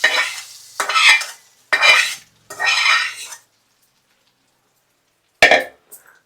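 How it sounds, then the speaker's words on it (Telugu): A spoon stirs a hot tempering into coconut chutney in a pot, producing several close, loud bursts of wet scraping and sizzling with short pauses between, then a final quick burst after a silence; no speech. "చూసారా ఫ్రెండ్స్, కొబ్బరికాయ చట్నీ పోపు వేసేసుకున్నాం."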